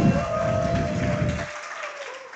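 Audience applause for a prompt engineer at a live prompt battle at loscon24 rings out as dense clapping for about a second and a half, then cuts off, leaving a faint hum.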